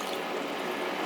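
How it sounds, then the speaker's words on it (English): Water pours steadily into a simmering sauce for home-cooked koftas, a continuous, loud, broad rushing pour with no breaks and no talking. "just add a glass of water and then let it"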